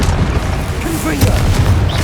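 Confringo spell explosions from Hogwarts Legacy boom loudly, a heavy low rumble running throughout with a sharper burst partway through, while a voice speaks over the magical combat.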